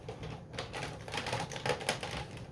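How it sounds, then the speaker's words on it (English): A cut and emboss machine pressing a card, a continuous close mechanical rattle and grinding whir with small clicks throughout, no voices. "I'm going to run that through the cut and emboss machine"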